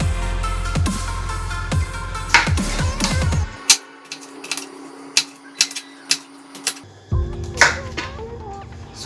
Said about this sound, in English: We're going to cut into very thin slices.